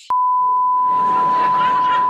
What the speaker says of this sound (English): That was actually my alarm for a while.